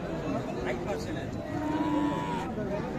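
Gir and Gujarati bulls at a cattle collection low and moo at moderate distance under steady background noise, with faint human chatter mixed in.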